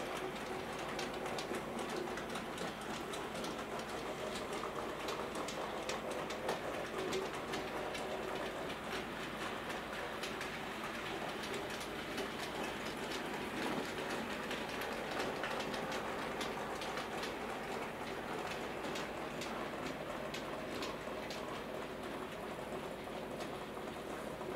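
A Hornby Class 08 model diesel shunter rumbles steadily along model track pulling weathered Bachmann clay wagons, with soft continuous clicking from wheels and rail joints throughout and nobody talking.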